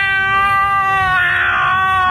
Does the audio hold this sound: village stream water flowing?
no